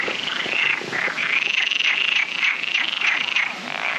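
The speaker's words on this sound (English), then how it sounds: "The frogs that we saw over on the lily pads are the rarest frog in the country. They are only found on the Iberian Peninsula, and they're called the Iberian painted frog." Iberian painted frogs croak in a garden pond with lily pads in Sintra, Portugal, a dense, continuous chorus of rapid overlapping calls, close and loud with no voices.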